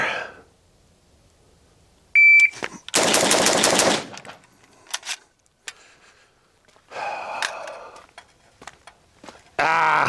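Pistol shots from a Boise Black Rifle handgun fire at a target: a sharp timer beep, then a fast burst of loud close gunshots, a pause, a few more scattered reports, and another shot at the end.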